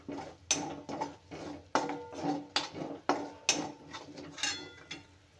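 Spoon scraping and clinking against a metal pan or bowl while turmeric is stirred into a potato filling for khasta aloo kachori, a steady series of close, sharp clatters with no talking.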